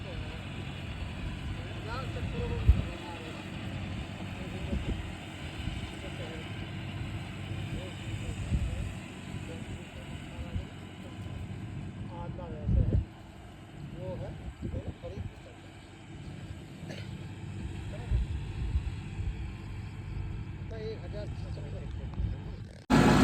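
A John Deere 5405 CRDi tractor's diesel engine runs at a steady, close rumble throughout, with occasional knocks and thumps over the drone.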